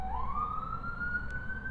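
Emergency siren passing outside, a single rising wail heard faint and distant over low background hum, with no voices.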